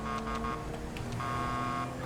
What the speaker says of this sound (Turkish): Şu kornayı öttüreyim.